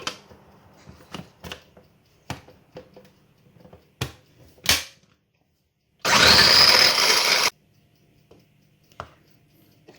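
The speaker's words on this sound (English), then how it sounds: "chop some zucchini here, put it in the little processor" A small food processor chopping zucchini whirs loudly for about a second and a half, preceded by scattered clatter and knocks of kitchen handling.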